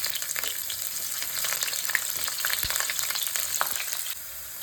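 Drumsticks (nuggekayi, moringa pods) deep frying in hot oil in a pan, a steady close crackling sizzle with scattered pops throughout, no voices.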